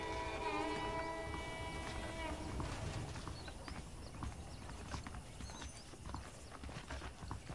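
Hooves of saddled horses clip-clop in Red Dead Redemption, a steady rhythmic clatter of footfalls at moderate distance, with a whinny and music-like tones early on and faint voices in the background.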